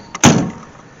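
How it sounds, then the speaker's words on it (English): An AMC Gremlin car door shuts with a single solid, loud thunk close by. A faint click comes just before it, and the sound fades quickly into quiet. "Door shuts nice and solid."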